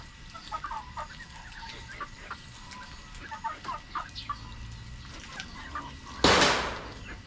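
Chickens clucking close by in a muddy farmyard, a series of short irregular clucks and calls, fairly faint, ending in a sudden loud burst of noise.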